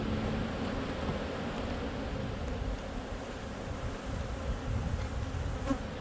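Honeybees at open hive frames give a dense, steady buzz that fills the whole stretch, close and even in loudness, with no voices.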